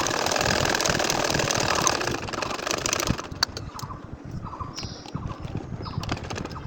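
A sewing machine stitches a nakshi kantha quilt: a dense, rapid whirring runs loud and close for about two seconds, then drops to a softer, uneven hum broken by scattered sharp clicks.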